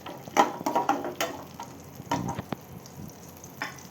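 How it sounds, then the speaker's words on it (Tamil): Cashews fry in lightly melted butter for paneer butter masala, a soft close sizzle broken by a few sharp spoon scrapes and stirring knocks, with no talking. "பட்டர் லைட்டாக கரையிற உடனே போட்டுக்கலாம். இப்போ போட்டுக்கலாம். முந்திரி போட்டுக்கோங்க."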